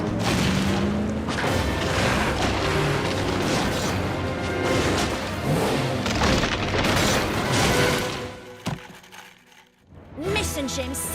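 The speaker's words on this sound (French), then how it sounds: "En s'emparant du trésor, Mason James a déclenché un éboulement." A rockslide rumbles through a Matchbox toy cave adventure, heavy crashing booms and thuds roaring continuously with music and effects before dropping off briefly and resuming.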